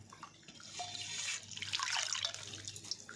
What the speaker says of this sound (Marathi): त्यातलं जे पूर्ण पाणी आहे ना ते काढून घ्यायचं